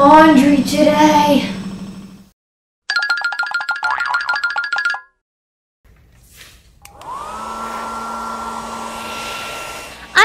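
A handheld hair dryer starts after a few springy boing-like effects and runs as a steady, loud whirring whine with a constant airflow hiss for the last few seconds.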